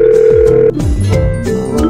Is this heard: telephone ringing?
yes